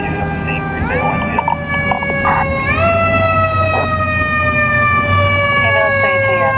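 A fire truck responding to a call sounds its siren close by, the wail sweeping up and down in steady loud cycles over the rumble of the engine.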